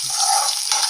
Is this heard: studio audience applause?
no